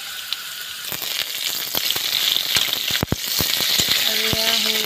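Fish frying in a pan after potatoes, a loud close sizzle with crackling spits and a few sharp clicks of a utensil against the pan.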